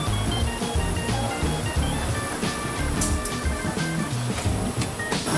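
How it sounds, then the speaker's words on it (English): An industrial sewing machine stitches roller skate linings together in a Riedell skate factory, a steady close mechanical whirr with rapid stitching chatter over constant workshop noise throughout. "sewing the linings together for a Moxie Lolly Skate"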